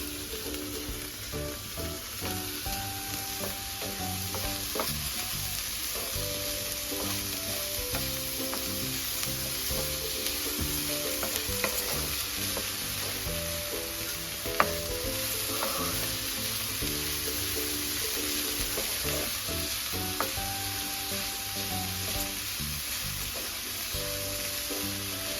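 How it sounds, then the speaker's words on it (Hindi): Onions frying on a medium flame, a constant close sizzle with intermittent scraping and clanking of a spoon stirring in the pan throughout. "इसे प्याज के साथ में अच्छी तरह से भूनेंगे। फ्लेम को मीडियम पे रखना है।"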